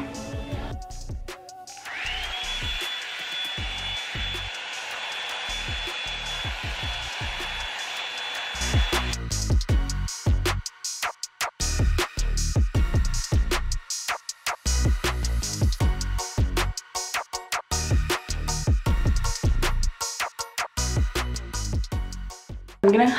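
A Revlon hair dryer brush blow-drying hair runs with a steady airy roar at first, then cuts off, leaving brushing, handling noises and intermittent clatter close by.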